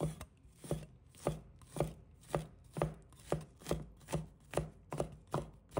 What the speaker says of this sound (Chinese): 再准备一大蒜，把它切成末